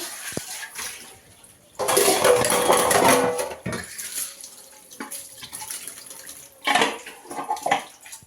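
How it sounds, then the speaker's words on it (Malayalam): Dishes being washed after a meal of chapati, with clattering pots, clinking utensils and splashing water in uneven bursts, loudest in a busy stretch near the middle and again toward the end, close by with no talk. "ഇനി പാത്രമൊക്കെ കഴുകി വെക്കാൻ"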